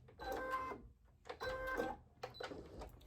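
A sewing machine stitches a skirt panel in three quick mechanical bursts separated by short pauses, each a dense whirring run, close and fairly loud.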